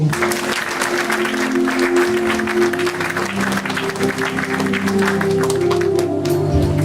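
Church congregation applauding continuously and fairly loudly, with steady dense clapping and some cheering voices mixed in, alongside sustained low musical tones.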